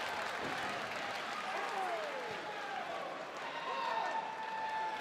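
Ring of Honor wrestling crowd during a Kevin Steen versus Shinsuke Nakamura match, a dense roar of cheering and clapping, with some voices rising in pitch and talk mixed in.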